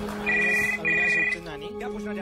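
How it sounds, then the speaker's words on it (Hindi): A landline phone rings in two electronic trilling bursts, clear and fairly close, with a voice speaking underneath and continuing after the ringing stops. "टीवी देखने लगी जब घर का लैंडलाइन बजा।"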